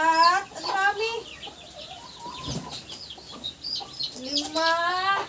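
Chicken chicks give shrill, rising peeps in quick bursts, close and fairly loud, with softer chirps between the bursts.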